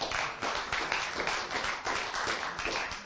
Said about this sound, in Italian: Un altro applauso Romano, va